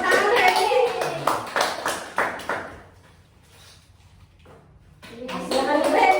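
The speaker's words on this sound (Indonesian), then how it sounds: "Baik, tepuk tangan Heni." Children in an Indonesian classroom clap their hands together for a classmate, a burst of close, sharp claps over mixed voices, fading to a quiet pause before clapping and chatter pick up again.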